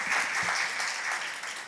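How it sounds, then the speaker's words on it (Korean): A church congregation applauds to welcome newcomers, a short burst of soft, even clapping heard at a distance and fading slightly at the end. "우리 한번 크게 박수로 환영의 박수 올려드리겠습니다"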